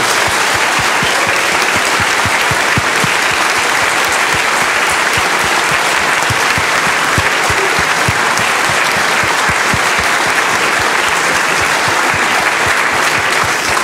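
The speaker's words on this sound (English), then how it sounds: "Let's just give them a big, warm, hearty applause." A large conference crowd at the FOSDEM 2014 closing session gives long, loud, sustained applause, a thick unbroken wash of many hands clapping for about fourteen seconds.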